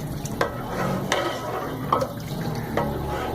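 Water mixed into kadhi batter in a pot gives a soft, continuous liquid swish with a few sharp clinks from the spoon against the pot, spaced roughly every second, close and moderately loud with no talk.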